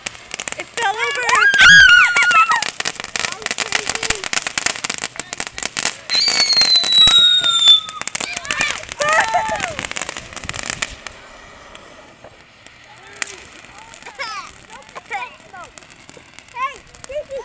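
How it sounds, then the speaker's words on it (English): Fireworks pop, crackle and whistle after a firework tipped over on the ground, with rapid bursts and shrill screaming whistles close by, while people including someone talk and shout throughout. "The firework fell over. It's a disaster zone."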